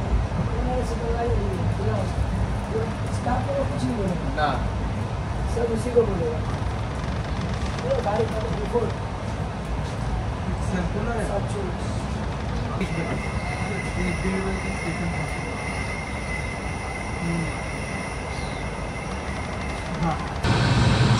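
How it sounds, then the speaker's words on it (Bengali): The Kulik Express rumbles steadily into the Bardhaman station platform, a continuous loud rolling roar of wheels and carriages heard from on board, with a higher whine joining in partway through. "এই তো বর্ধমানের প্ল্যাটফর্মে ট্রেন প্রবেশ করেছে"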